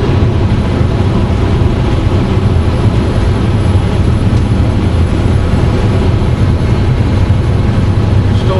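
A tractor trailer truck's diesel engine accelerating in eighth gear at highway speed, heard from inside the cab as a loud, steady low rumble and drone with broad road noise.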